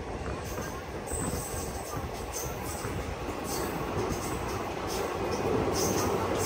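Hubballi Express rolls along near Nandaluru, a steady rumble of carriage wheels and rattling cars from inside the moving train, with faint high squeals and background chatter.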